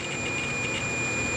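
A drone's battery plugged in wrong gives off a steady high-pitched warning tone that holds unbroken for the full moment, over a faint hiss in the background.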